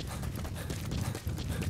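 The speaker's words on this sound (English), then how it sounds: "Get back up on this horse." Horse hooves galloping in the video game Metal Gear Solid V: The Phantom Pain, a steady rapid clip-clop rhythm with no pauses, fairly close over a low background rumble.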